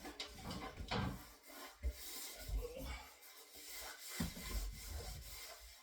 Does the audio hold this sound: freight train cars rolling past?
no